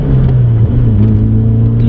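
A BMW M3 E30 with a 195-horsepower four-cylinder engine and an unusual gearbox, being driven sideways through Warsaw streets. A loud, steady engine drone holds a fairly constant pitch throughout, heard close from inside the car.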